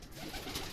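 Racing pigeons coo softly at a loft, a short low murmuring call heard faintly and alone without any talk.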